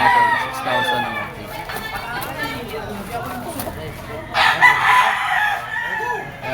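Gamefowl roosters crow at a market in Lipa, Batangas, with one loud, close crow rising clearly near the end while someone talks steadily over other birds calling around the stalls.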